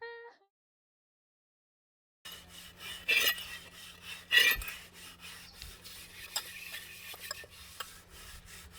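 Dishes are scrubbed by hand, with rasping, rubbing strokes and occasional clinks of utensils and pots at a moderate distance, starting after a brief silence.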